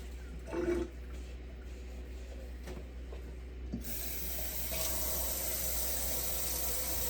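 Water running from a kitchen tap while dishes and cups are washed by hand, a soft steady stream with light clinks early on, growing louder and fuller after a few seconds.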